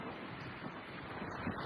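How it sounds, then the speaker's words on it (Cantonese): Strong wind blows outdoors in downtown Markham, a loud, constant rush buffeting the microphone, with no voices. "幾大風"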